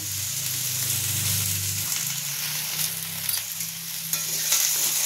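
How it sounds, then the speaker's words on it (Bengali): Steady, close sizzling of vegetables with tomato, salt and turmeric frying in a pan, with a few stirring scrapes and clinks near the end; no voices. "এবার এটা একটু ভেজে নেবো"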